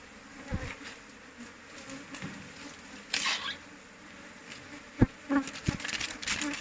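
A swarm of Asian cavity-nesting honey bees buzzes around a hive cut from a tree hollow, making a close, continuous drone with individual bees whizzing past in louder passes and a few bumps and taps.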